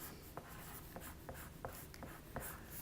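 A pen writing a name on a paper progress graph, with faint scratchy strokes in short bursts and small taps between them, recorded up close in a quiet room with no one talking.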